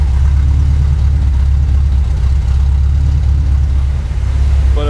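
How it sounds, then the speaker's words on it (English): A 1980 Camaro V8 fitted with a Holley carburetor idles slightly high, a steady, loud low-pitched rumble running unbroken and close by with no talking over it. "It is idling a little bit high."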